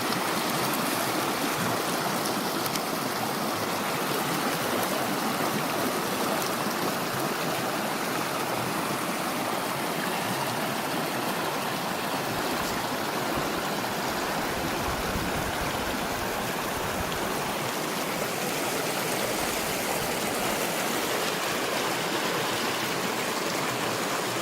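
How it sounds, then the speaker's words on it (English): A flooded creek rushes steadily in a dense, broadband roar, its loud churning water flowing without pause and with no voices over it. "I'll show you the water flow up there"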